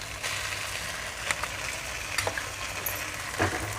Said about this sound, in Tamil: இதை நல்லா சிம்மில் வச்சு நல்லா வதக்கிடுவோம்.